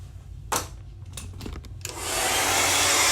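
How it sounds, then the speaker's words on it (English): A hair dryer blows on gel during a closure wig install, starting after a few light handling taps and then roaring steadily and loudly up close to the end. "Then I'm going to dry it a little, okay?"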